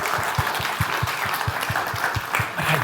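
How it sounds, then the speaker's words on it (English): A church congregation claps steadily for the actors after a drama about Nicodemus, a dense wash of hands with a low rhythmic thump underneath, close and sustained throughout. "can we give a round of applause for our actors?"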